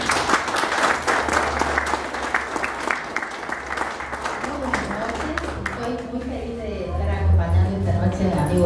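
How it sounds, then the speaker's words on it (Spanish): A crowd at a book launch for a collection of mysterious-event anecdotes claps steadily, the applause thinning out as a voice begins speaking toward the end. "Pido un aplauso para ellos"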